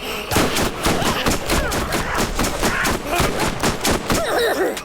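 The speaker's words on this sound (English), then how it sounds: "I feel like I'm literally shooting a gun" Rapid, loud bursts of gunfire from the video game Borderlands Remastered, close and rhythmic shots repeating in quick succession across the whole stretch, with a short pause near the end.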